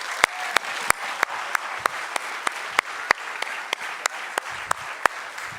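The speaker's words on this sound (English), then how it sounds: "I would like a massive applause for my team, 2023 Top Dutch Solar Racing" An audience applauds steadily for a solar racing team at a car reveal, a dense wash of clapping with sharp, regular claps standing out near the microphone.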